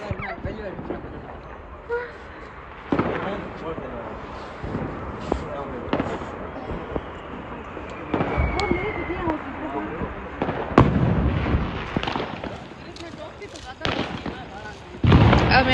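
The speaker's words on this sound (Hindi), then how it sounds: "अब मेरा फेवरेट वाला पटाखा." Diwali firecrackers and fireworks going off outdoors, sharp bangs and crackling bursts scattered irregularly, some loud and close, with people talking and calling out between blasts.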